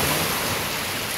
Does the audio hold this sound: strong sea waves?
yes